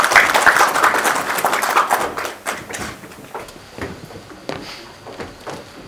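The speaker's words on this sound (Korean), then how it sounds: "박수로 환영해 주시기 바랍니다." Applause from an audience at a Chungcheongnam-do residents' autonomy association leaders' inauguration ceremony in Nonsan, welcoming the next speaker. The clapping is sustained and fairly loud, then thins out toward the end. No one speaks.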